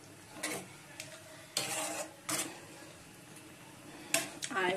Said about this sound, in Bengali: আর এবার আলু ভাতেটা মাখবো।